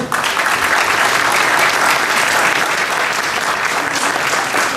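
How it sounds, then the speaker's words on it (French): A crowd applauds steadily at a Melun Brie festival celebrating the confrérie's 30th anniversary, greeting its founding pioneers with dense, loud clapping that runs unbroken from start to finish. "vous pouvez les applaudir."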